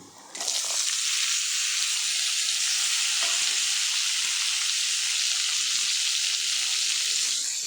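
Garlic, coconut, a large tomato and shallots being sautéed in a pan break into a loud, steady hiss of sizzling that starts abruptly and holds evenly, with a couple of soft knocks and no talking.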